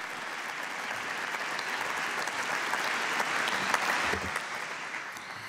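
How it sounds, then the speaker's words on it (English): An audience applauds at a museum opening ceremony, a sustained dense patter of many hands clapping that swells slightly before easing off. "Please give a round of applause."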